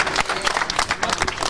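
Crowd applause at an outdoor motorsport slalom event in Oppido Mamertina, Italy: dense, lively clapping from many people, fairly loud and continuous, with some crowd noise mixed in.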